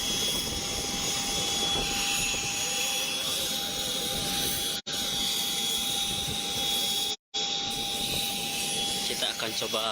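Aircraft engines run at an airport while an ambulance patient is moved onto a plane bound for Jakarta, a constant loud whine and roar with steady high tones, briefly cut out twice, under a reporter's talk.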